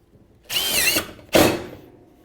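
Two short, loud bursts from a power drill driving screws into a gripper strut on a metal roof, the motor whining up close with a brief pause between runs.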